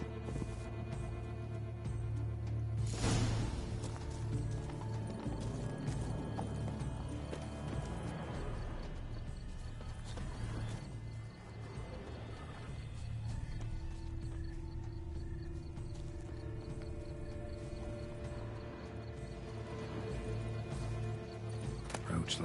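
Roach, a horse in The Witcher 3, clip-clops steadily with hooves under a dense bed of game music and ambience, a sharp crash near the start and a brief voice in places.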